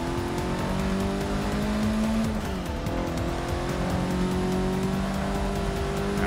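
Race car in the video game Forza Motorsport 6, heard from the hood view with a loud, steady engine drone that rises and falls in pitch as it lifts off and accelerates again.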